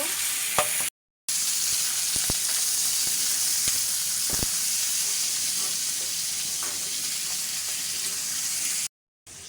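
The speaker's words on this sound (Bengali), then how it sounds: "এটাকে ভালো করে একটু নেড়ে নেব।" Chicken gizzards, liver and feet are stirred while frying in a pan, with steady close sizzling throughout and scattered scraping clicks from the spoon, broken by two short silent gaps.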